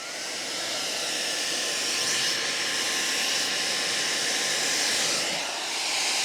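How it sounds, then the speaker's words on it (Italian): A hair dryer running at full power, about 1356 watts, from an ALLPOWERS R2500 portable LiFePO4 power station blows with a steady, loud, close airy roar and motor whine that holds constant throughout with no talking. "Adesso vi faccio vedere giusto la prova con l'asciugacapelli."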